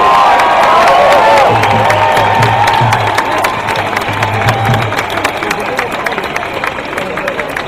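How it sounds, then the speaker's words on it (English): A big outdoor crowd at a protest gathering applauds and cheers, with sharp claps and whoops over a loud hubbub that slowly fades toward the end, and voices mixed through it. "a big round of applause to the Chaser team for their fantastic job around the day"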